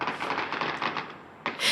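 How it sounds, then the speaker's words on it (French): Gunfire at a scene where two Palestinian men are shot while on the ground: a rapid burst of sharp, crackling reports heard at a distance in a news recording, followed by a brief louder noise at the end. "et des coups de feu"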